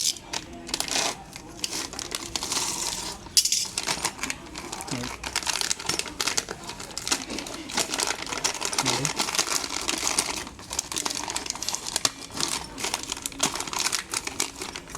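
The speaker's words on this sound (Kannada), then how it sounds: "ಇದು ಪ್ಯಾಕೆಟ್ ಓಪನ್ ಮಾಡ್ಕೊಳ್ಳೋಣ" A plastic packet holding a replacement Activa scooter footrest is opened with continuous close crinkling and rustling, plus a few sharper tearing crackles.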